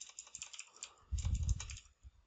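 Quick clicking keystrokes on a computer keyboard, light and close, with a soft thump of a heavier key partway through and quiet gaps between.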